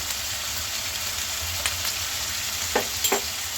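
Chicken pieces fry on high heat in a pan with turmeric, cumin, coriander and chili powder, giving a steady close sizzle with a few sharp scraping stirs near the end, no voices.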